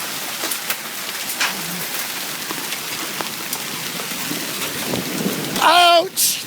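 Heavy hail hammers down in a thunderstorm in Florissant, Missouri, a constant clatter of ice with sharp individual impacts, and a voice cuts in near the end.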